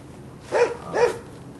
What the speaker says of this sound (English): they have a dog to protect them